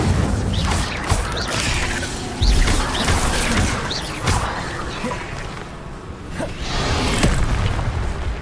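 Incendio fire spells are cast repeatedly in Hogwarts Legacy, loud whooshing bursts and booms with clattering impacts recurring every second or so.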